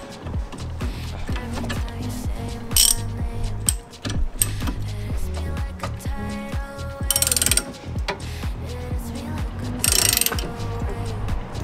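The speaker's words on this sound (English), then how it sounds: "I'm gonna try and loosen the axle nut from inside the whole hub here with a jaw puller" A jaw puller works on the axle nut inside the hub of a Chevy Aveo during a wheel bearing job, giving steady rapid ratcheting clicks with metallic mechanical clatter and three short bright bursts, close and loud, with no talking.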